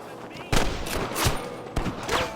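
Gunfire in Red Dead Redemption: several sharp, loud shots cracking out at irregular intervals over a noisy outdoor background, with a voice heard between them.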